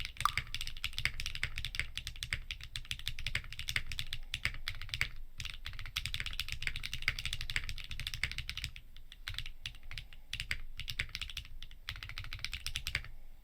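Fast, continuous typing on a Mode Envoy mechanical keyboard fitted with HMX switches and an aluminium plate, producing dense, crisp clacks close up with only brief pauses between bursts.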